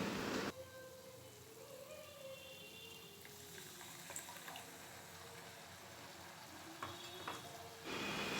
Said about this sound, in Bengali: দইটা দেওয়ার পর আরও খানিকক্ষণ কষিয়ে নিতে হবে।